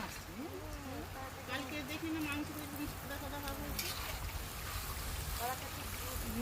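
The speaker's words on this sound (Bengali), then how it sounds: "কষানো হয়ে গেছে এবার দিয়ে দিতে হবে পরিমাণ মতো জল" Water is poured into a pan of mutton ghugni with peas, a steady, rushing, splashy pour that runs the whole time, with a voice talking over it.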